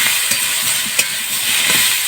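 Chopped tomato stirred into cauliflower and chicken frying in a pan, producing a loud continuous sizzle and hiss with soft scraping stir strokes throughout.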